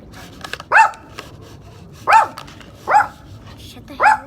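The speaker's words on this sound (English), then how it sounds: "It's my dog barking." A dog barks in four sharp, close, loud single barks spaced about a second apart, set over a quiet background.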